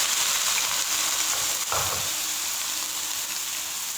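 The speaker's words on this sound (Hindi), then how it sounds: "और अच्छे से आप लोगों ने इनको फ्राई करना है।" Finely chopped onions fry in oil for arvi curry, giving a steady close sizzle and hiss with a brief stirring scrape partway through.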